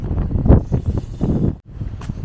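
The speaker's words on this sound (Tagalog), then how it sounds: "sobrang lakas ng hangin" Strong cold wind buffets the microphone outdoors near a school pedestrian crossing in Japan, producing loud, uneven rumbling gusts that surge and drop over a couple of seconds.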